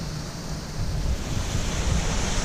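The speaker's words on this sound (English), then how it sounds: "enjoy the sound of the water rolling over the" Water rolling and rushing over rocks below a waterfall at Little Yosemite in an East Bay park, a steady, dense roar that swells slightly partway through, close and loud with no voices.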